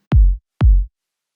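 Two punchy kick drum hits from a sample pack, evenly spaced about half a second apart, each a deep thump with a sharp click and short decay, alone in silence.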